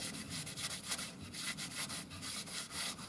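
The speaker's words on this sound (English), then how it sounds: "Some sanding sealer just along the edge." Soft, rhythmic rubbing of sanding sealer along the edge of a wooden trophy base, repeated back-and-forth strokes that are fairly quiet and close, with no voices.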